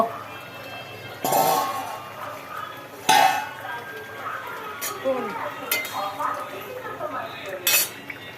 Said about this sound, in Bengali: ঢাকনা তোলা হলো